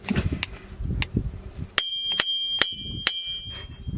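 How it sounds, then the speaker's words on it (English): A steel hammer strikes an anvil resting in a pool of mercury, giving several sharp metallic rings at irregular intervals; a bright sustained ring follows the louder strike, over low background rumble. "I want to try hitting it with a hammer"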